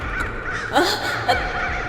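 Crows caw harshly in a horror story sound effect, two or three loud, raspy calls spaced close together over a low background.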